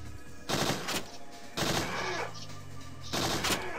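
Bursts of gunfire at a shooting gallery in the Parasite Eve 2 video game, three loud volleys at steady intervals, each a dense crackling rattle with short gaps between.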